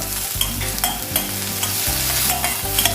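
Tomato cooks with ginger, green chilli, garlic and curry leaves in a pan for crab roast, giving a close, steady sizzle broken by brisk rhythmic scraping strokes of a spoon.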